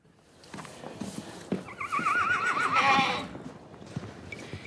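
A horse at a volunteer-run retirement sanctuary for horses gives a loud, wavering whinny over scattered hoof clip-clops and stable noises, close by, with no talking.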